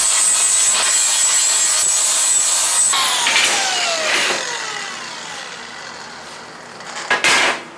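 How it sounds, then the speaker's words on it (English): Angle grinder with a flap wheel grinding burrs off steel welding table legs, a loud close whine that winds down and fades, ending with a couple of sharp metallic knocks. "Clean the burrs. Hit it with the flapper wheel."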